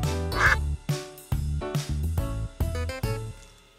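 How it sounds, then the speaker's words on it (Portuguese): A cartoon duckling quacks about eight times in a quick, uneven series, each call loud, close and nasal, with no talking. "Este é o patinho."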